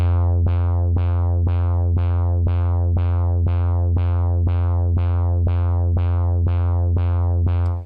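An Agonizer synthesizer's sequencer, set to a 1/2 rate, repeats the same short plucked note in a steady, even pulse, about two per second, over a constant low drone, loud and alone.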